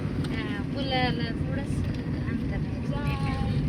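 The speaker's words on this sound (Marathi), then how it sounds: "पाणी किती वेगाने चालले बघ" Steady broadband rushing of the flooded Nira River flowing fast, loud and continuous, with wind buffeting the microphone and voices talking briefly over it.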